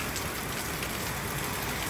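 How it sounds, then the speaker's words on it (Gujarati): Heavy monsoon rain pours down steadily near a house terrace, a dense, continuous hiss of water with no pauses and no voices. "વરસાદ આવી ગયો છે અને વરસાદ આવ્યો ને પણ બહુ જોરદાર આવ્યો છે"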